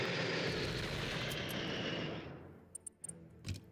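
Strategic bomber engines in the Unity of Command 2 strategy game drone loudly as a steady roar, then fade out after about two seconds, leaving a few sharp clicks.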